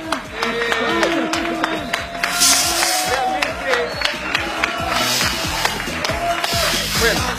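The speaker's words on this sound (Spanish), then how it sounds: "lo despedimos con un fuerte aplauso" A studio audience at a Spanish-language TV variety show breaks into sustained applause, dense steady clapping with crowd noise running the whole time, loud and close, with a voice occasionally talking over it.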